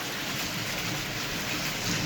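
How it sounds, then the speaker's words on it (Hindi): Heavy rain pours down in a steady, dense roar that fills the whole clip, loud and close with no breaks and no voices over it. "इस वक्त ये हालत देख लो, इतनी तेज़ बारिश है"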